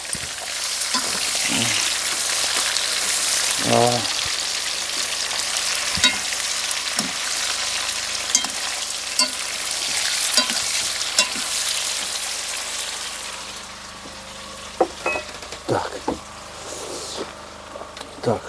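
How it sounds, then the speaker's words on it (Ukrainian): Pork fat and pork belly sizzle and crackle steadily in a hot frying pan, a dense continuous hiss with occasional scrapes and knocks from stirring. "тут у нас все шкварчить"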